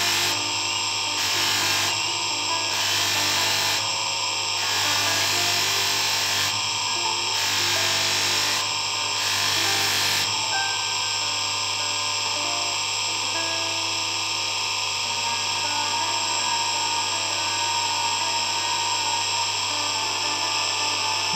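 A small cloth buffing wheel on a motor polishes a brass ring, giving a steady high-pitched whine with a constant drone underneath, briefly pulsing in short on-off bursts early before settling into an unbroken tone.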